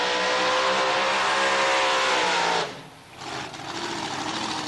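Farmer Victor Bray's 1957 Chevy drag racing car, a loud, sustained high-pitched engine scream that suddenly cuts off, dips, then returns at a lower steady roar, no talking.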